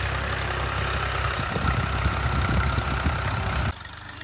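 A tractor engine idles on a farm, a continuous low, rumbling drone, close and steady for several seconds before it suddenly drops off near the end, with no talk.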